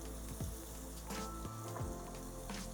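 Ginger paste and cumin powder sizzle in hot oil in a pan while a traditional Bengali dish is cooked, giving a continuous close crackling fry with faint pops throughout.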